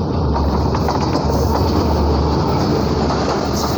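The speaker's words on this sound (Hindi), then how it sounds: "ये 7 स्पेशल ट्रेन है जी।" A Pakistan Railways express train rushes past at speed, with a loud, steady roar of wheels and wagons and faint clickety-clack filling the whole stretch, no voices.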